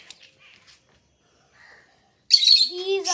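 Pet budgies and parakeets chirp and warble loudly near the end, a bright burst of bird calls after a mostly quiet stretch.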